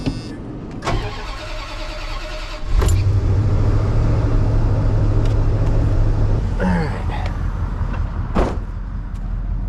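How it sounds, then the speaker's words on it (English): A work truck on a cold morning cranks and fires up, then settles into a steady low idle close by, preceded and followed by door clunks and a few sharp knocks. "Let the truck get warm for a bit."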